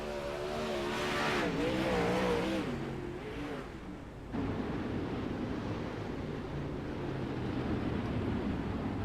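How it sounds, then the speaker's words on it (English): Sprint race cars in a URL Super Sprint Series race, engines rising and falling in pitch as they pass, then a steady loud roar of several cars circling the track. "Brett Strickler back out on track. Did not lose a lap there."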